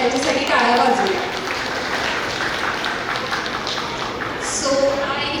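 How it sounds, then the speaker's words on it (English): An audience applauds at a school gathering for a preschool, steady clapping spread across the room with children's voices and chatter mixed in throughout. "Give a big round of applause for them."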